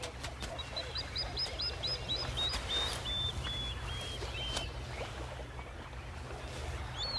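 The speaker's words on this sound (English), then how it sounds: "the feisty plover immediately declares war" A plover gives a run of sharp, repeated alarm calls at a monitor lizard near its ground nest, the piping notes carrying over a low, steady outdoor background.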